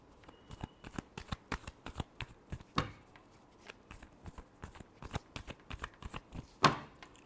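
Tarot cards are shuffled by hand close by, giving a quiet string of about two dozen crisp slaps and riffles at an uneven pace, with one sharper snap near the end and no talking.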